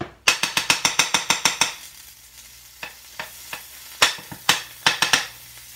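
Salmon patties frying in butter in a pan, a soft sizzle broken by a quick series of sharp, close clicks and scrapes, then a few scattered taps after a brief lull.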